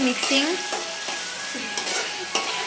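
Rice being stirred and fried in a pan with tomato, a steady close sizzle broken by repeated scraping stirs and light utensil clatter.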